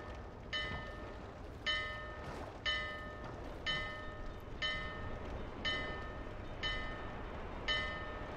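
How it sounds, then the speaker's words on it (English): A bell in the video game Dark Souls 2 rings eight times in slow, even succession, each strike a bright metallic clang with a lingering ring over faint background noise. "There's a freaking bell here I can ring."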